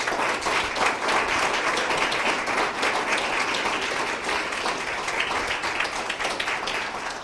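An audience applauds public servants who work with veterans at a Veterans Affairs Canada event in Windsor, a full, sustained burst of clapping from a large crowd that stays loud and even throughout.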